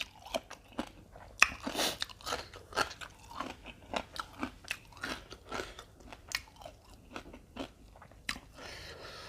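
Fatty pork crackling crunched and chewed up close, a steady run of sharp bites and crisp crackles repeating for several seconds with no talking.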